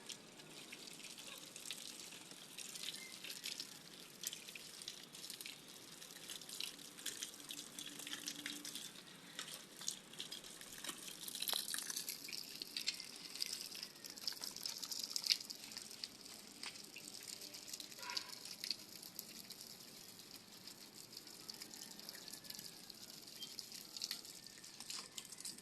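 A weak trickle runs from a tap in a backyard vegetable garden, a thin continuous splashing hiss with small irregular drips, steady and close throughout with no talking.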